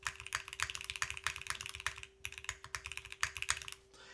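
Quick, steady typing on a Class65 mechanical keyboard with a polypropylene plate, crisp close-up clacks with occasional deeper, sharper spacebar hits in an even, rapid rhythm, no voices.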